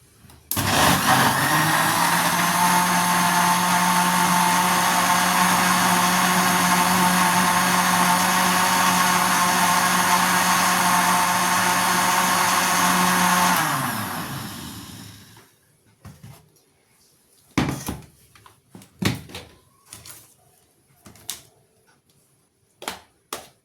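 Electric blender whirring through a thick Sharjah shake, a loud, steady motor roar with a constant hum that runs for about fourteen seconds, then winds down and stops, followed by scattered knocks and clatter of handling the jar.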